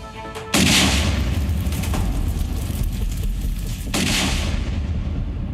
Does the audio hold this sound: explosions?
yes